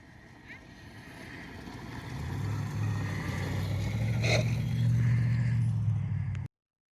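A Mototech 60-volt electric ride-on quad races another quad, its motor drone building from a quiet start into a steady, louder whine that holds until it cuts off abruptly, with faint voices in the background.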